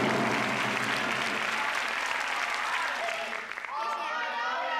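Studio audience applause on a Taiwanese variety show, dense steady clapping close and loud for several seconds, fading near the end as a voice begins speaking over it.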